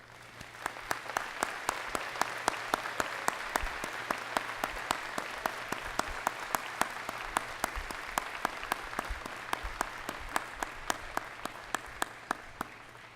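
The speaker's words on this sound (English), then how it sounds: "Audience, please join me in a round of applause for these honors." A commencement audience applauds honors graduates at a 2017 associate degree ceremony, with steady, fairly distant clapping from a large crowd running continuously throughout, its individual claps crisp within the wash.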